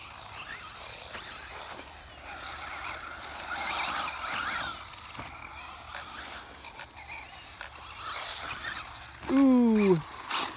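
Traxxas Slash 2WD RC truck running on a track, its motor whining and tires scrabbling under faint background noise, ending in a sharp rising whine as the throttle is punched near the end.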